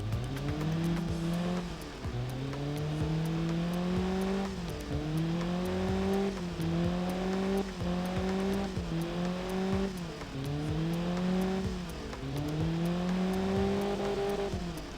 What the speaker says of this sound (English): Yeah, it's fluttering now. It's a good machine, it's a good engine.